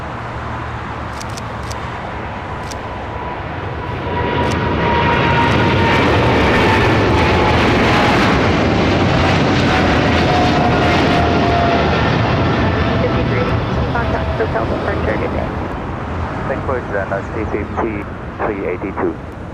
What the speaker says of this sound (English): That was China Airlines Cargo 5382 taking off to Miami, Florida on a 777 freighter.